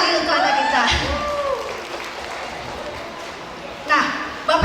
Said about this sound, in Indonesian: tepuk tangan lagi untuk anak kita